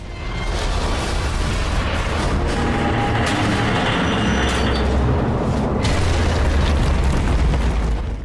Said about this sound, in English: placed an explosive at precisely the most structurally weak point of the viaduct, and then sniped his own charge from afar to set it off